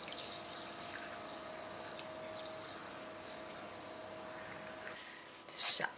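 Water poured over 50 grams of millet to soak it, a soft close trickle and splash running steadily for several seconds before tapering off, quiet and alone.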